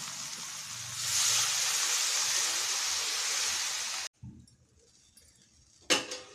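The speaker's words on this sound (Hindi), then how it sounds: "अब हम इसमें डालेंगे पानी।" Water is poured into a garlic curry masala in a kadai, making a steady rushing hiss for about four seconds that stops abruptly, followed by near quiet and a brief clatter at the end.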